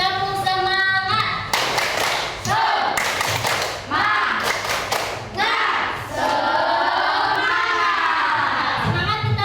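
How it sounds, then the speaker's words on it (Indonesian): An Indonesian primary classroom performs tepuk semangat, a rhythmic group clap routine with sharp unison claps in set patterns, mixed with children's chanting voices and a teacher's voice, loud and close throughout. "ayo kita tepuk semangat dulu. Tepuk semangat."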